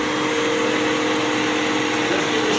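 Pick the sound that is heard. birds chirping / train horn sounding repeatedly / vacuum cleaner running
vacuum cleaner running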